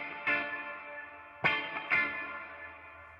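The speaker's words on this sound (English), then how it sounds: "So that's as much reverb as you'll get out of this amp." Three sharp guitar strums through a Laney Cub 12R combo amplifier with reverb fully up ring out, each trailing into a long, washy reverb tail that hangs in the air between hits.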